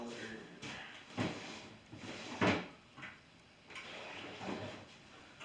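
Several wooden drawer or cupboard bumps and slides as an art-supply drawer holding paint, beadwork, clay, pens and pencils is pulled open, with a louder knock mid-way and quieter shuffling around it, close by.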